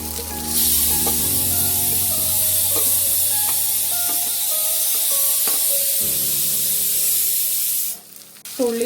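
Shallots and onions sizzle and fry in hot oil for a Kerala beef ularthu, a loud continuous close hiss with scattered crackles and stirring knocks that cuts off sharply near the end.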